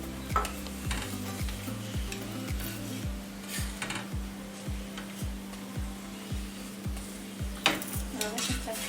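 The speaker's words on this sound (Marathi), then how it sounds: "तुम्ही बघू शकता किती छान प्रकारे तो भाजला जातोय." Methi paratha roasts in ghee on a pan with a soft, steady sizzle, while a spatula scrapes and presses it in regular strokes about twice a second, close and fairly quiet.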